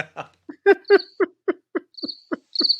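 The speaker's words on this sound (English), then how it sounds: "Hit the crickets. Cricket noise." Cricket chirping played as a sound effect: about a dozen short, evenly spaced chirps in a quick steady rhythm, close and clear against silence, with a few thin high trills mixed in.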